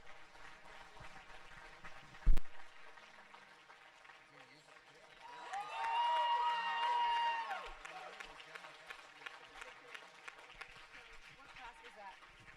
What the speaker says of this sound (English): Let's give these kids another big round of applause.